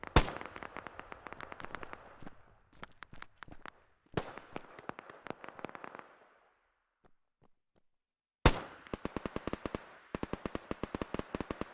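Gunshots from the video game Operation: Harsh Doorstop, in rapid bursts of sharp cracks with a gap of near-silence in between, then a fresh volley of close, loud shots.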